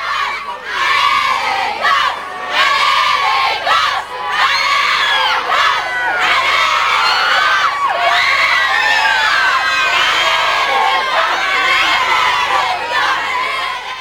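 A crowd of children cheers, shouts and sings to welcome football players at the 1998 World Cup in France, the loud, joyful chorus sustained and fairly close throughout, with brief dips in volume.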